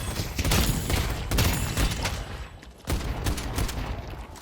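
Gunfire from the video game Deadlock comes in dense, rapid bursts, loud and close, with short pauses between volleys and a sharp renewed burst near the end.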